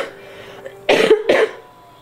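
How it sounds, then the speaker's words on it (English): Two quick coughs from a small child, close by, in a short burst after a quiet moment. "You got a bad cough?"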